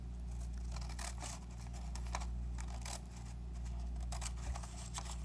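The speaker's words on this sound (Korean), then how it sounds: "위에 한 장만 들어서 반을 잘라줍니다" Scissors snipping through a sheet of origami paper while folding a hanbok doll, a run of quick, close, dry cuts repeating over a steady background hum.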